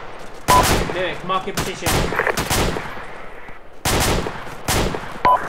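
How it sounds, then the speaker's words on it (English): Heavy gunfire in a military video game: bursts of close, loud shots come in irregular clusters while someone speaks briefly over the shooting. "We're taking a lot of fire"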